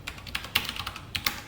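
Computer keyboard keys clack as code is typed during a web framework programming lesson, a close, quiet run of uneven clicks with a few sharper keystrokes and no talking.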